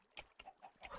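A hen in a farming simulator game gives short bursty clucks, a few separate calls spread across a second, fairly faint and alone.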